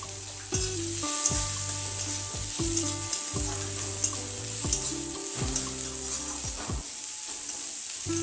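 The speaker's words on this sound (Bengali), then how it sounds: "এরপর দিয়ে দেবো পেঁয়াজ কুচি।" Chopped onion sizzles steadily in hot oil in a pan, a loud continuous fry with a stirring scrape now and then, alone without talk.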